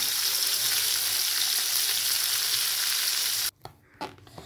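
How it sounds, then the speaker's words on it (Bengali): Bitter gourd (ucche) fries in hot oil with a loud, dense, steady sizzle that cuts off abruptly, followed by a few faint clinks. "মা কিন্তু দেখো উচ্ছেগুলো খুব সুন্দর করে ভেজে নিয়েছেন"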